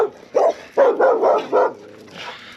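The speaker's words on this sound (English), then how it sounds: "Getting barked at by dogs here." Dogs bark near Tombstone, Arizona, in a quick run of four or five loud, close woofs, followed by a softer whine at the end and no talking.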